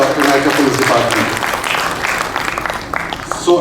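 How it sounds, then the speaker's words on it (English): Big round of applause from a summit audience, loud clapping from many hands with a voice speaking over it at the start, the clapping fading somewhat toward the end. "Can we have a big round of applause for the Karnataka Police Department?"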